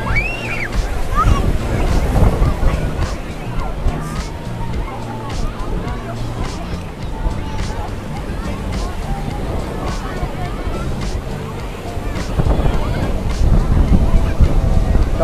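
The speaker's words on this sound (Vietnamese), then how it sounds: "Trong video nó hơi ồn, mong cả nhà hoan hỉ nha, tại vì gió rất là lớn cả nhà." Strong wind and surf on a crowded Vung Tau beach during Tet, a steady loud roar with waves washing in, wind buffeting the microphone, and a busy babble of voices throughout.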